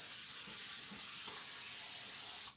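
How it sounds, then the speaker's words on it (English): Olive oil cooking spray hisses steadily from an aerosol can onto the bottom of a cookie sheet, a close, continuous spray lasting a couple of seconds before cutting off abruptly. "all I'm going to do is put some olive oil spray on the bottom of this cookie sheet"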